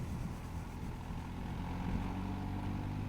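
An MV Agusta 900 Veloce three-cylinder motorcycle engine runs steadily at low speed in fourth gear around 30 km/h, giving a continuous, even, low-pitched drone throughout.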